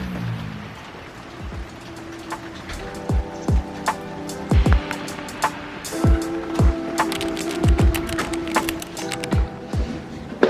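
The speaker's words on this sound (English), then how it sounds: "Guys, it is raining." Rain falls at a matcha farm in Japan, a soft steady patter with louder irregular drips and splats striking a nearby surface, no voices.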